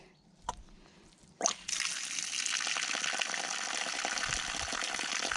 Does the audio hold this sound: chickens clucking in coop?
no